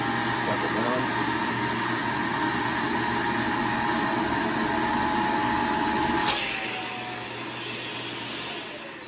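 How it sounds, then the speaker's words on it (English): A vacuum cleaner roars steadily while sucking the air out of a storage bag until it turns rigid; the pitch shifts abruptly near the end as the bag collapses, and the motor keeps running. "Then on my vacuum cleaner, suck it down."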